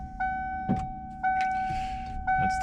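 A 1994 Ford truck with a faulty starter, giving repeated clicks from the starter alongside a steady electrical whine from the dash, with no engine catching.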